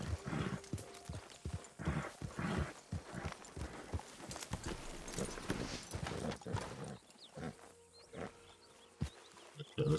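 Horse hooves clopping at a steady riding rhythm in Red Dead Redemption 2, a run of close, fairly loud thuds that thin out near the end, with faint ambient game sound behind.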